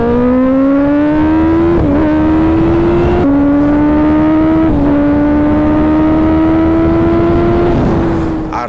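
A superbike engine revs loudly up close while being ridden, its tone climbing steadily in long pulls and dropping briefly at each gear change before rising again, with continuous wind and road roar underneath.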